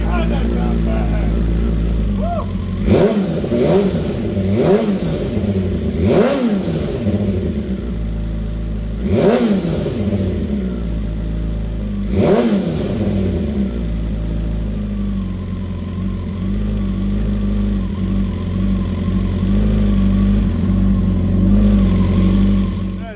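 BMW S1000RR superbike on a dyno running E85 fuel through a Brock exhaust, idling loudly then blipped in several sharp throttle revs that rise and fall, followed by a steady rumbling idle.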